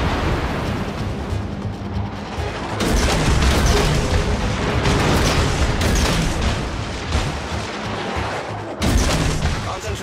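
Dense gunfire and booming explosions from a naval battle video game roar continuously, loud and close, with heavy rolling blasts and sharp bursts layered over one another, swelling in several waves.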